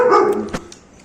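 A young puppy gives one short, high bark, close and loud, preceded by a brief whiny yelp, with no talking.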